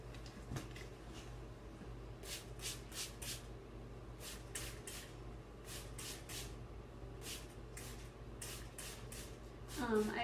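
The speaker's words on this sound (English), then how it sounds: "I will spray it down with some water so I'm not cheating" A handheld spray bottle mists water onto fine hair in quick, crisp bursts. The pumps come in clusters of two to four, fairly close and moderately loud, over a quiet room background.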